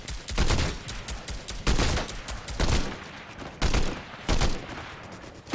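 Bursts of gunfire from the video game Fortnite Battle Royale, several loud volleys of rapid shots separated by brief pauses, with no talking.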